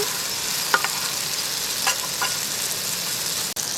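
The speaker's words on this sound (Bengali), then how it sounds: "মশলাটা আমি ভালো করে ভেজে নিয়েছি এবার আমি আলু কাবলি ছোলা দিয়ে দেব" Potatoes and kabuli chickpeas added to frying masala sizzle with a constant close hiss, broken by a few light clinks of a stirring spoon.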